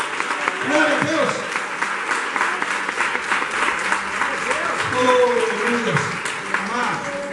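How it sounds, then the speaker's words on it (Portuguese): A church congregation applauds in a broad wash of clapping, with a preacher's amplified voice and other voices continuing over it throughout. "Você pode aplaudir"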